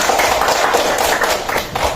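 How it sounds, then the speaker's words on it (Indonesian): Students in an Indonesian classroom clap together in a dense, steady burst that holds for about two seconds at close range before easing slightly. "tepuk tangan untuk kita semua"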